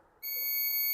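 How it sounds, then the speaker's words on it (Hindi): A multimeter's continuity beep while checking resistors on an e-rickshaw controller board, a single steady, piercing tone that starts abruptly and holds. "बीप आनी चाहिए"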